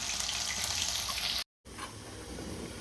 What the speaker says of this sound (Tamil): நம்ம தேங்காய் அரைச்சி வச்சு தேங்காய் ஊற்றிடலாம்